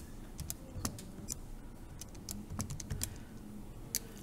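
Quiet, scattered key taps on a calculator keypad, irregular single and paired clicks spread over a few seconds with a faint room hum beneath.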